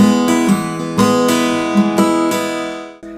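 An acoustic guitar strummed quickly in a chord pattern for a song: bright, full strums with a steady rhythm, close and loud, ending in a muted stop and a last light strum.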